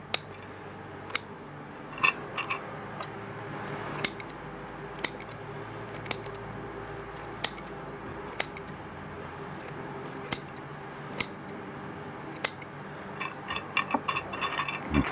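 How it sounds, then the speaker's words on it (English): Scissors snip through kitchen sponges being cut up for a small potted rose, about a dozen crisp, close metallic cuts in a fairly even rhythm over a low background hush, with no talking. "So we cut up 2 sponges for this little plant."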